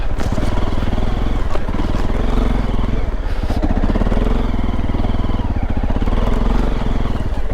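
An off-road motorcycle on new tyres is ridden hard through rough wooded ground as it slides about, its mid-pitched engine roaring loud and close with steady revving and some scraping and clattering.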